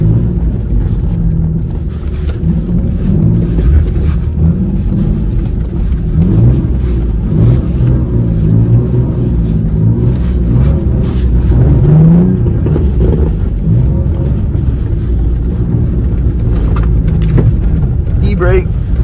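A Nissan 350Z drifting on a snowy street gives a continuous, loud engine rumble with rising and falling revs, heard close from inside the car, with people talking over it.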